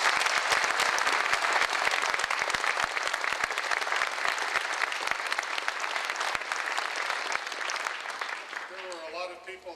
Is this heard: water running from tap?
no